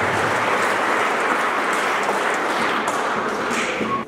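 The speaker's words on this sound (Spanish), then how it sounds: "Demos fuertes aplausos por nuestros hermanos" Congregation applauding during a religious festival Mass honoring the Virgin of the Snows in Coracora, a dense sustained clapping that holds steady for about four seconds, with faint ringing taps mixed in.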